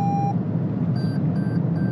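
Lane assist warning beeps inside a Toyota Corolla 1.5 petrol car: one short tone, then three evenly spaced high beeps over steady road and engine rumble, with no talking.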